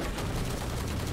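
Gunfire in the video game Shadow of the Tomb Raider, a dense burst of rapid shots running through the short moment at moderate loudness, with no talk.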